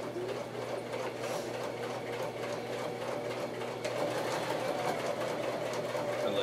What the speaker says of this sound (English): If you're trying to do this on a smaller sewing machine